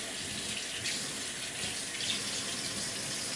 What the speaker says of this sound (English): I'm going to rinse this real quick.